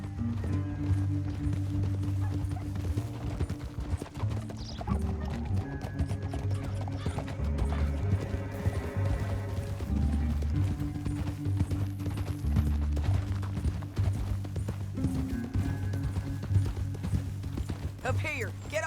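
Red Dead Redemption 2 horses gallop steadily for nearly twenty seconds, hooves drumming beneath tense orchestral game music, with whinnies cutting through and occasional voices talking over the ride.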